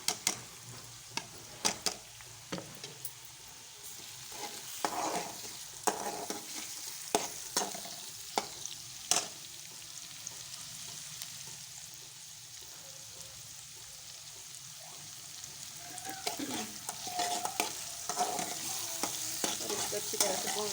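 Tomatoes fry in a pan with ginger-garlic paste for a Pakistani-style fish curry, a steady hiss broken by repeated sharp scraping clicks of a spoon stirring, fairly close, with the sizzle swelling louder near the end.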